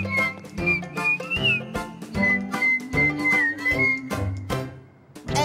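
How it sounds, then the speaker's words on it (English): Someone whistles a bright melodic tune over a bouncy, percussive cartoon song backing, with sliding whistled notes riding above strong rhythmic beats. "Just listen, cause it's whistling all around"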